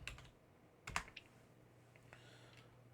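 A few computer keyboard keystrokes as a Linux touch command is typed to create a file, with a cluster of close, crisp clicks near the middle and a lighter tap later, over quiet room hiss.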